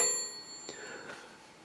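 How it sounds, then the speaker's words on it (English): Bell on an antique Zenith Lazy Bones radio chassis gives a single quiet ding with a short, fading ring, heard alone in a quiet room. "Here, a little ding there, the bell."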